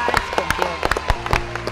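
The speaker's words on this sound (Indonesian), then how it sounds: "tepuk tangan dulu" A handful of people clapping outdoors near a newly arrived white tiger enclosure, sharp individual claps in an uneven burst, close and fairly loud, with faint voices and background tones underneath.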